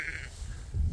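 A sheep on a farm lets out a single short bleat, fairly close and clear, over faint outdoor background noise.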